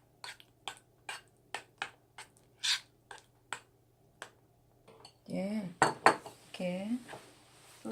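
A metal spoon clinks against a bowl while seasoning is mixed for stir-fried squid, about a dozen sharp taps in a steady rhythm, then heavier scraping and stirring clatter close by.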